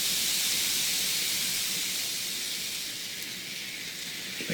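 Celery, bell pepper, onion and garlic stir-fry in vegetable broth with a loud, continuous steamy hiss and sizzle that eases slightly partway through, with a faint clunk near the end.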